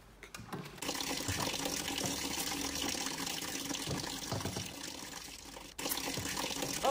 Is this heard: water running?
yes